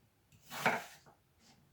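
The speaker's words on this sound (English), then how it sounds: "just slice up the apple and just put it inside the blender" A knife cuts through a fresh apple on a board for a smoothie: one soft, faint slicing crunch with a light chop of the blade against the board, followed by a couple of quieter taps in a quiet kitchen.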